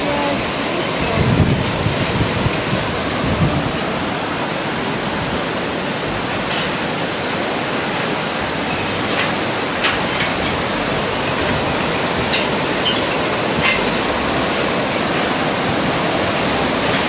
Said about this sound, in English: Amazing white water, isn't it?